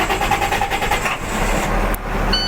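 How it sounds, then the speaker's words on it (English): A training truck's diesel engine turning over and settling into a steady idle heard from inside the cab, a loud rumbling drone with a brief sharp click near the end. "Safe start, double check spring brakes, engine on."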